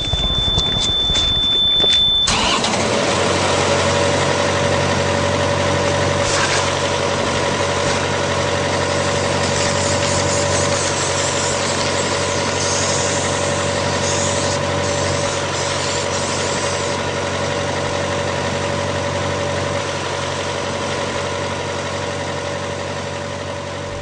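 A freight locomotive engine idles in a rail yard, a steady loud drone with a constant low hum and tonal whine that holds unchanged after a brief burst of noise at the start.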